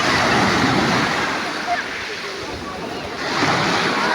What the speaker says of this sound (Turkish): Dalga geliyor çok güzeldi.